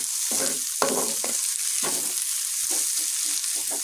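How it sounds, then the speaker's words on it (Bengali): Onion and shrimp frying in a pan, a steady loud sizzle with bursts of stirring and scraping at irregular intervals, close by and with no talk. "এই সাইডে ভাজতে ভাজতে এই সাইডে হয়ে যাবে"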